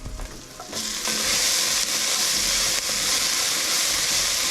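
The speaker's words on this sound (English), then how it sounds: "I'm just letting that fat render out of that bacon and getting everything cooked a little bit before I throw in my green onions." Bacon, garlic and green onions fry in a pot with a loud, steady sizzle and hiss, close up and alone, swelling after the first second.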